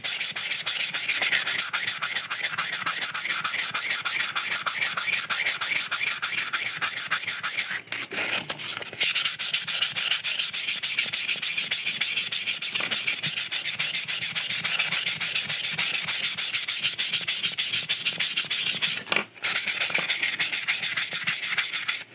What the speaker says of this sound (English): And so when you're sanding body filler